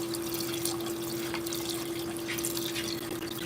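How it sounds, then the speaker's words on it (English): Water trickling steadily along a creek outdoors, a continuous soft wash running alone through the whole stretch with a faint steady hum beneath, no voices over it. "There's a lot of sounds back here with the birds and the trickling water."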